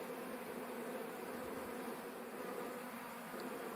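Honey bees hum steadily at an open beehive during a spring honey harvest, a dense continuous buzz with no breaks, close and even throughout.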